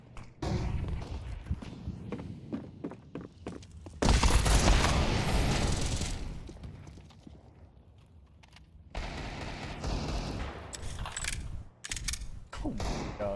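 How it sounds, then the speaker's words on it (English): A flashbang grenade thrown in Counter-Strike 2: a short run of clicks and gear handling gives way to a loud, sustained broadband burst that swells and slowly fades, followed by more mechanical clatter and scattered sharp hits. "Throwing a flashbang."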